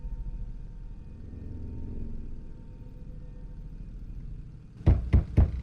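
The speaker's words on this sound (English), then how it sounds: "He's like banging on the door." A police officer bangs hard on a house door, a quick burst of about four loud, heavy knocks near the end after several seconds of low rumbling background.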